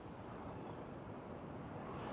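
Steady ocean surf rolls continuously at a shoreline, a broad, even wash of noise with wind buffeting the microphone, fairly quiet and with no voices.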